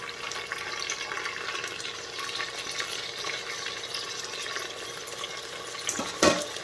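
Chopped tomatoes are added to fried onion in a pan and sautéed for a Karnataka-style dish. A steady close-up sizzle and wet frying hiss continues throughout, with a brief louder stirring clatter near the end.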